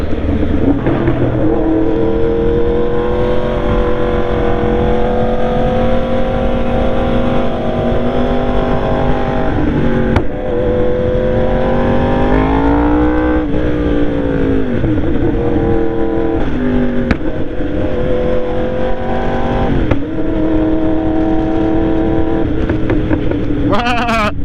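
A Honda car engine drones loudly and continuously, its pitch climbing and dropping through several rev changes and gear shifts, with occasional voices underneath.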